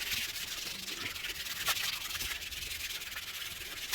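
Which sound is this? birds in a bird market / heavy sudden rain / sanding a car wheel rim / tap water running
sanding a car wheel rim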